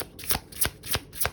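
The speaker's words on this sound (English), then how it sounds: "I like to shuffle on camera, guys, because I want you guys to see the connection of the cards" Tarot cards being shuffled, four quick crisp riffle bursts in an even rhythm, close and alone.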